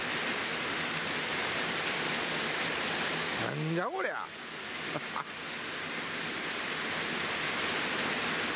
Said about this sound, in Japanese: 雨の量じゃないよこれ。